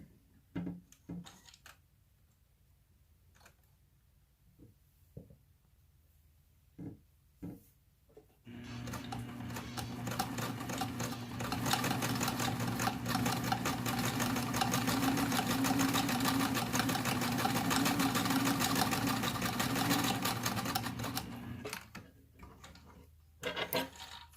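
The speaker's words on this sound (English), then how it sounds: "I'm going to follow the edge of my band with my twin needles" A sewing machine runs a twin needle along the edge of a fabric band, whirring steadily and close for about thirteen seconds after a few light clicks and handling sounds, then stopping.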